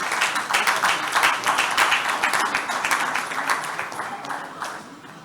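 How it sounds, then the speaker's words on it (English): Audience applause at a conference closing ceremony, a dense steady wash of many hands clapping that swells early and gradually thins toward the end. "So please, let's applaud our vendors."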